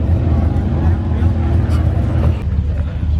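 Subaru Brat engine at a chrome bumper cars-and-coffee meet, a steady low rumble close by with crowd murmur and other car noise mixed in.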